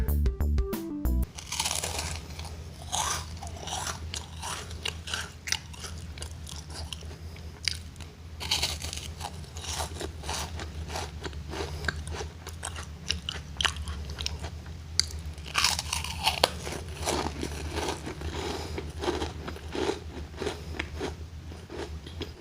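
Close, crisp bites and crunching into a cream-filled green tea snack, followed by steady chewing with repeated crackly crunches throughout, loud and near with no talking.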